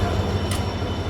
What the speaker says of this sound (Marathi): फायनली आपली ट्रेन आलेली आहे तुतारी एक्सप्रेस